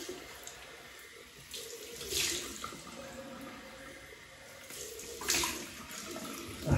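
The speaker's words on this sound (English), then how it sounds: "So, do you have a cold water rinse?" A bathroom tap runs steadily for a cold water rinse after a shave, with a faint constant rush and two brief louder splashing swells as water is disturbed, and no talk.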